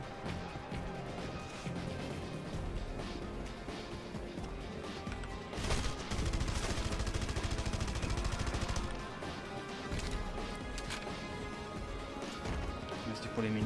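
Gunfire in the Red Faction video game, dense and continuous under a busy game soundscape, with heavier bursts and crashes in the middle stretch and someone talking throughout.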